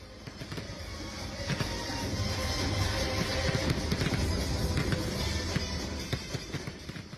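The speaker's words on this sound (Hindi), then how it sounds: "रंग बिरंगी आतिशबाजी हो रही है" Fireworks go off over Lal Parade Ground in Bhopal, India, in a dense run of crackling bursts and pops, loud and continuous before easing off.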